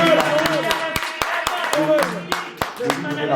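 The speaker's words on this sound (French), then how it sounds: "Est-ce qu'on peut applaudir, s'il vous plaît?" Scattered audience clapping at a Paris concert-related event, a few sharp claps mixed with music tones and a voice, moderately loud and uneven.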